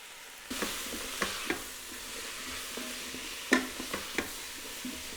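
Vegetables stirred in olive oil in a Ninja Foodi pot sizzle softly at close range, with a few sharp scraping knocks of the utensil against the pot scattered over the steady frying hiss.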